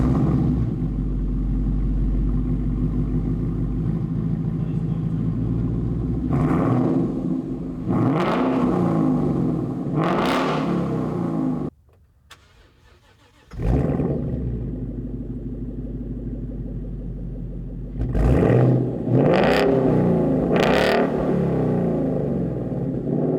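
A 2015 Mustang with an AWE Touring Edition stainless steel 3-inch cat-back exhaust idles with a deep, loud rumble, then revs several times in rising bursts, drops briefly to near silence, and revs again in sharp blips.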